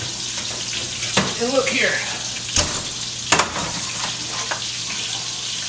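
Food browning in a pan, a low steady sizzle running under a person speaking briefly, with a few sharp clinks of utensils.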